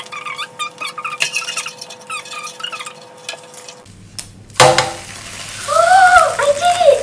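An omelette with vegetables is flipped in a frying pan, bringing a sudden louder burst of sizzling after a quieter stretch of cooking, with the hiss holding steady close by afterward.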